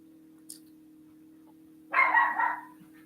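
After a quiet stretch with a faint tick, a dog lets out a short burst of barking, one or two quick barks at moderate distance.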